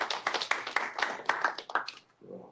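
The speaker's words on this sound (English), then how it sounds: "So let's give a round of applause to Ben." An audience at a Tableau user group meeting claps for a couple of seconds, a dense patter of hands that tapers off and stops.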